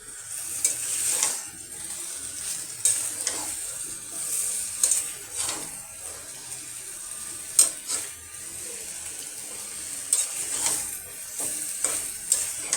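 Papaya and potatoes frying with meat in a pan, a steady close sizzle broken by repeated scraping stirs and clinks of a utensil against the pan, with no talking.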